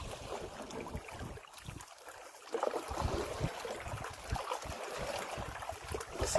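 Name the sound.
paddling a canoe on water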